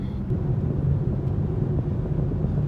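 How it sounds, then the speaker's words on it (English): Low, steady road rumble inside a moving 2020 BMW X3 M Competition on the freeway, a constant droning hum with no talking over it. "Car does have a little bit of road noise, a little bit more than I would expect, honestly."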